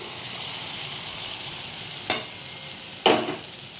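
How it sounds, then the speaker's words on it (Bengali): Spice paste with onion and garlic frying in oil over a low gas flame for a fish curry, a steady close sizzle punctuated by two sharp stirring scrapes. "গ্যাসের ফ্লেমটা একদম লোতে রেখে ভালো করে মশলাটা কষিয়ে নিচ্ছি"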